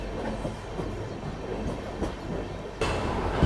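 Tejas Express rolling through Diva Junction without stopping, heard from on board as a steady rumble of wheels and car noise with faint clicks, a louder surge near the end.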